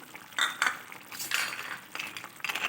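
Fried lentil dumplings (dal bori) tipped into vegetables in a pan, a few quick metallic clinks and scrapes of a spoon against the pan, close and short, with no talking.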